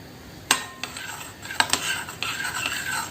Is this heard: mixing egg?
yes